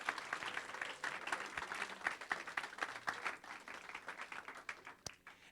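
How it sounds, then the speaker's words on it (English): An audience at the Entrepreneurship World Cup West Coast USA final applauds the presenting companies, a fairly distant round of clapping with uneven sharp claps that swells and then thins out toward the end. "get another round of applause for all of our presenting companies today"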